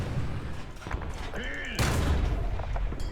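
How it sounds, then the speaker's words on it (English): Tank cannon fire from a Hungarian Turan III in the War Thunder game, heard as one heavy, sudden blast partway through that rises out of a steady background rumble and a brief tonal whine. "Okay, these guys are shooting at me. That demands counterfire."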